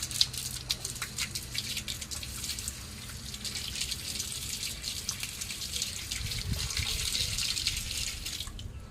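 Water rushing steadily through a garden hose being scoured inside by a scouring pad to clear algae, a continuous close hiss and spatter with no talk.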